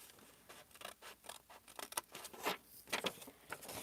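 Paper being cut with scissors while making a junk journal bank envelope, heard as a quiet run of crisp snips and rustles in irregular bursts, close by with no talking.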